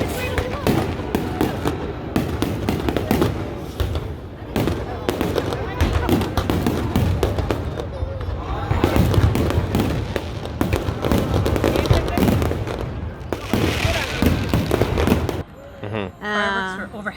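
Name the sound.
Diwali fireworks exploding overhead in Amritsar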